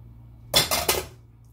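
A metal lid is set onto a pot of shrimp broth on the stove, three quick close clanks and rattles of metal on metal, then quiet.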